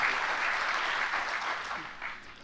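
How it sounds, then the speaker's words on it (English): Brief burst of applause from an audience at an aerospace facility groundbreaking ceremony, steady and moderately loud, fading at the end. "Let's give Ty a round of applause."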